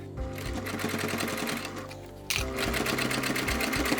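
Sewing machine stitching steadily up close, a fast rhythmic mechanical chatter that pauses briefly and then resumes more loudly.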